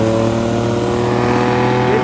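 A Ford Mustang does a tire burnout at a Southern California cars and coffee meet, heard as a loud, steady, droning engine roar that holds without a break for two seconds.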